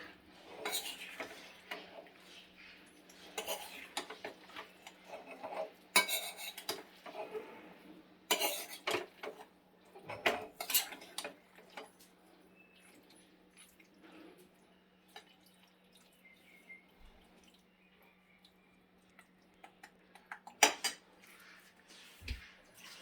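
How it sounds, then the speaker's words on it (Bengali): Kachki fish is stirred in oil in a pan for a bati chorchori, with scattered metallic clinks and scrapes of a utensil against cookware, faint and intermittent over a low steady hum and quiet background. "হালকা করে একবার নাড়িয়ে দিচ্ছি তেলটা দেওয়ার পর।"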